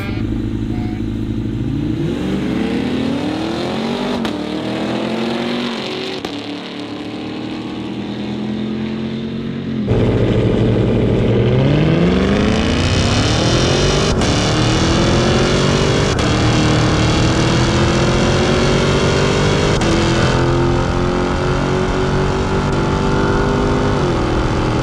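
A Cadillac Escalade V and a RAM TRX launch from a standstill in a drag race, engines roaring loud and close as they climb through rising revs and gear shifts, with a sharp surge in volume midway.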